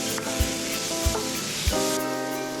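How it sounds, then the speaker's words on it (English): Lamb steak chunks browning in a hot skillet, with a steady sizzle and three dull thuds as pieces land or are moved around the pan. "Cut the lamb steaks into small chunks and then throw them into the pan so they can brown"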